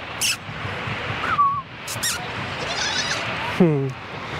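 A baby goat bleats for its mother outdoors, one clear wavering cry near the end after a few fainter calls, with light background noise and some talk.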